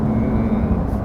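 Steady, loud engine drone from a 2020 Porsche 911 992 Carrera S driven in Sport Plus mode, a brief continuous rumble heard from inside the car.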